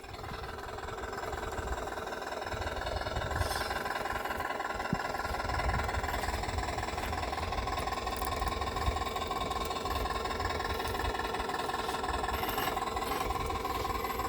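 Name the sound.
RC crawler motor blipped on throttle, simulated diesel engine sound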